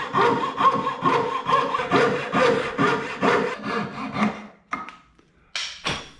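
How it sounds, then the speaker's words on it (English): A coping saw cuts waste from a twin tenon in wood with steady, rhythmic back-and-forth strokes, close and fairly loud, then slows to a few last short strokes with pauses. "I'll use a coping saw to remove the center waste."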